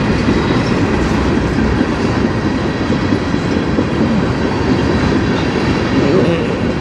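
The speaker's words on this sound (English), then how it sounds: "Not a long train anyway, I can already see the end of it." A CN freight train rolls past at close range on the Strathroy Subdivision near Sarnia, a loud, continuous rumble of heavy wagons with steady wheel clatter on the rails and no talk.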